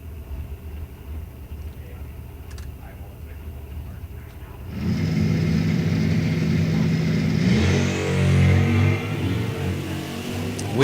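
NHRA drag racing cars launching off the line, engines rising from a low idle rumble into a loud sustained roar that swells and stays heavy, with an announcer talking over it.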